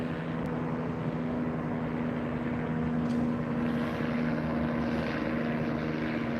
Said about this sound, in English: See the helicopter up there.